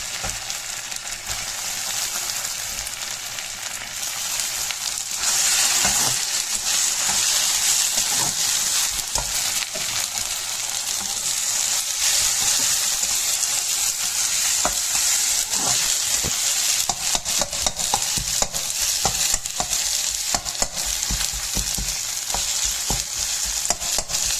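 Curry frying in a pan on the stove, with a steady loud sizzle broken by frequent scraping strokes of a spoon stirring it, continuing without pause throughout and no one speaking.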